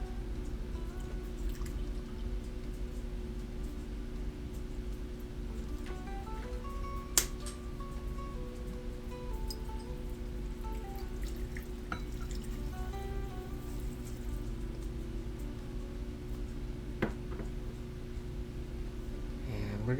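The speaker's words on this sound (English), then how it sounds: "add that grated ginger to our peppermint chamomile mix here, and then add in some water, about a cup here" About a cup of water poured into a mix of grated ginger, peppermint and chamomile: a faint, continuous trickle and drip heard close up for a long stretch with no voices.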